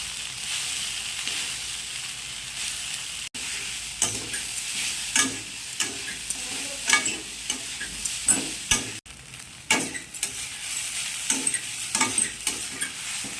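Washed chuda (flattened rice) frying and being stirred in melted sugar in a pan, a constant soft sizzle under irregular scraping and stirring strokes, close by with no talking.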